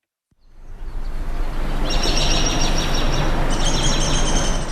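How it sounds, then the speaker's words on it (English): Birdsong recorded at Roxham Road plays from a corner of an art museum as a loud, steady wash of ambient noise, with thin, repeated high chirps coming in after a couple of seconds. "A recording of birds chirping plays from a small corner of SUNY Plattsburgh's Art Museum."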